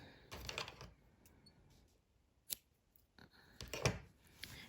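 Scissors snip through crochet yarn in a few short, crisp cuts spaced over several seconds, close to the microphone and otherwise quiet, with no talking.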